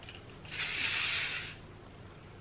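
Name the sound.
spraying Kenra hairspray on curled hair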